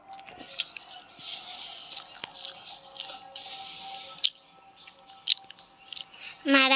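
A person eats rice with fried vegetables, giving soft close wet chewing and squishing with small bites and clicks, quiet throughout, ending in a brief louder burst.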